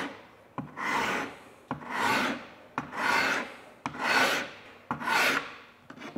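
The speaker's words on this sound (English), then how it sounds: "So the way this works is I simply just put this on here and then file." A hand file rasps along the bevel of a steel knife blade, five slow, even strokes with brief pauses between, close and loud, each ending in a small click, with no voices.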